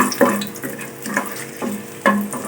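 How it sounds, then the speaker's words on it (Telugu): Whole spices (cardamom, peppercorns, cloves, a small cinnamon stick, shahi jeera) and dried red chillies frying in a kadai, with a steady close sizzle broken by several stirring scrapes at regular intervals, no talk. "అలాగే 2 యాలకులు, ఒక 5-6 మిరియాలు, 4 లవంగాలు, చిన్న దాల్చిన చెక్క, షాజీరా వేసుకొని బాగా ఫ్రై చేసుకోండి."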